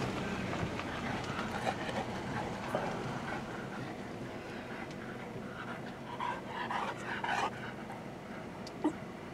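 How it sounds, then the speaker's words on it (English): A Great Pyrenees dog pants steadily at close range, with faint background rumble and a few brief sharp noises. "these are Great Pyrenees, pretty cool dogs"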